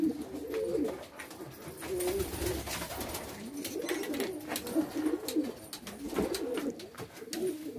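A loft of Çorum Çıplağı breeding pigeons gives continuous throaty cooing, several birds overlapping in soft rolling phrases at close range, with no voices.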